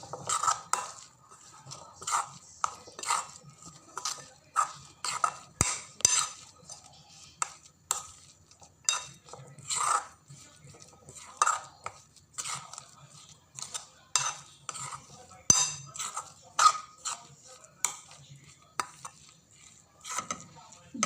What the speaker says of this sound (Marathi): सगळं घालून झालं आपलं, तर मिक्स करून घेऊया.